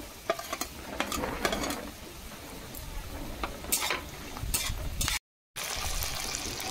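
Grated ginger and garlic fry in a pan with chopped onion, giving a steady close sizzle broken by repeated stirring scrapes and a brief dropout near the end.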